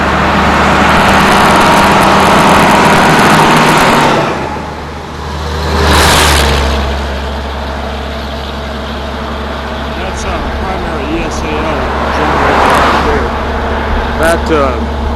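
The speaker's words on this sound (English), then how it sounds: "That dump truck, by the way, is coming out of a borrow pit back there" A dump truck coming out of a borrow pit and driving along a roadway, its engine droning and revving at close range, with wind buffeting and someone talking over it.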